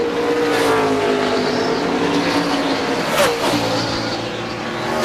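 NASCAR stock cars at the 2002 Pontiac Excitement 400 race, loud sustained engine roar with shifting pitch as cars accelerate and pass, a dense racing drone through the whole stretch.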